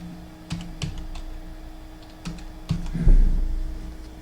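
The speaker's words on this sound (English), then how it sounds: "we're going to type the word black in all caps" Keys tapped on a computer keyboard in short scattered bursts while entering text in Adobe Illustrator, close and fairly quiet with pauses between clusters, ending in a louder thump.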